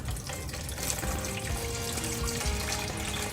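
Sea moss rinsed with bottled water, a steady close pour and splash of running water into a sink or bowl, continuous and moderately loud with no speech.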